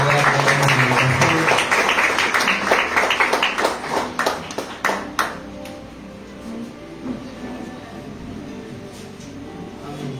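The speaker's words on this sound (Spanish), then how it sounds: "Bríndele un fuerte aplauso al Señor." Congregation applauding in a church, loud dense clapping at first that thins into scattered claps and fades to quiet room tone by the end.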